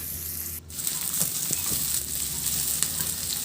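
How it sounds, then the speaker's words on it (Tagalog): Onion and garlic sauté in a hot pan with a steady, close sizzle that dips briefly, then resumes with faint crackles and no voices. "Sa disim na kawali, igisa ko na rin yung sibuyas."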